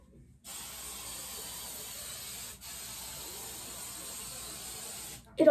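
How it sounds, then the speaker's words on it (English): Freeze hold hairspray from an aerosol can misted onto hair, two long steady hissing bursts split by a brief pause, close and even, with a clatter at the end. "we're especially gonna spray down the middle"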